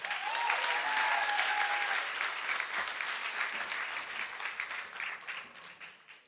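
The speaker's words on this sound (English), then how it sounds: "give her a round of applause as she comes" Full audience applause at a business school gala, a dense steady wash of many hands clapping that stays loud for several seconds before gradually thinning and tapering off.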